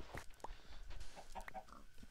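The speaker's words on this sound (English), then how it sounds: "Why do I have chickens following me, Dylan?" Chickens in the Minecraft video game give short clucks several times at close range over a faint background, with no talking.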